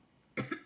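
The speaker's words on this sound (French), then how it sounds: "Ça tousse, ça gratouille dans la gorge." A single close, sharp cough in a short double burst after a moment of quiet, followed by the start of another.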